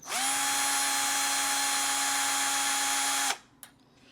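Power drill spinning Kanthal wire strands held with pliers, a loud steady whine for about three seconds that stops abruptly, followed by a small clink.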